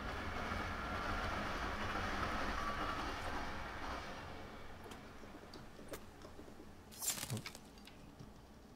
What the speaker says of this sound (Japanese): あ、電車やろ